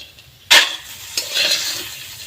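Bori lentil dumplings frying in a pan: a sharp utensil clack against the pan, then a soft, close sizzle with a second light scrape of stirring.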